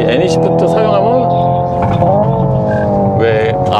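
A Hyundai Ioniq 5 N electric car plays its simulated combustion-engine sound while accelerating, a loud, steady, layered synthetic engine drone with a brief stutter where the fuel cut kicks in. A voice seems to speak over it.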